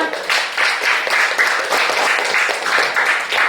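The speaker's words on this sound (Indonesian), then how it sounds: "tepuk tangan kepada kita semua" A school class claps together during a classroom guidance lesson, a loud close burst of many hands with an uneven, pulsing rhythm that swells and dips over a few seconds.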